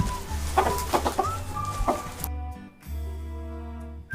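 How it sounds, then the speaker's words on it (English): A chicken clucks in short, repeated bursts close by, then a rooster crows loudly in a long call. "What chicken says? Cluck, cluck, cluck, cluck."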